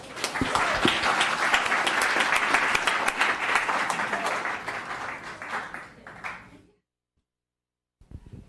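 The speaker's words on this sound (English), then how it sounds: "Give him a round of applause." Council chambers audience at a Los Gatos town council meeting gives a round of applause, dense loud clapping that gradually thins and fades out, followed by silence and a brief faint sound at the end.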